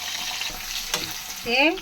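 Crushed garlic, tempering spices, curry leaves, chopped onion and green chilies frying and sizzling in hot oil, with a steady crackle and a brief stirring scrape near the end, close and moderately loud.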